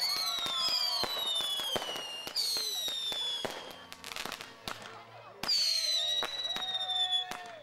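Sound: fireworks

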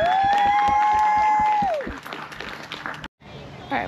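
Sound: people clapping for two helpers

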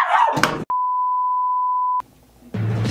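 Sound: beep tone

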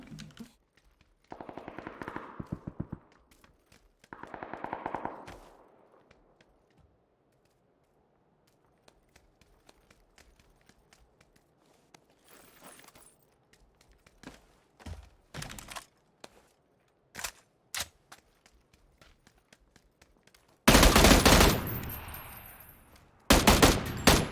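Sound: gunfire from the video game PUBG

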